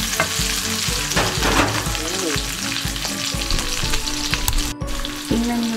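Garlic sizzles and fries steadily in a pan while browning for a home-cooked chopsuey, a loud continuous crackle with occasional stirring scrapes.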